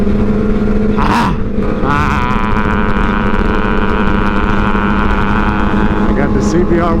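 A Honda CBR1000 sport bike rolls past a roadside group riding wheelies, its engine a loud steady drone that holds throughout and swells as it nears, with wind buffeting and brief crowd noise over it.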